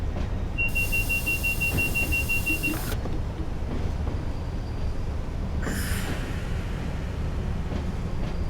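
A British Rail Class 86 electric locomotive runs on the West Coast Main Line between Preston and Carlisle in a train simulator game, giving a steady, loud rolling drone with brief high whines and clicks.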